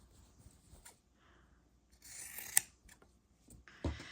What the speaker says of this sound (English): we're going to trim off these corners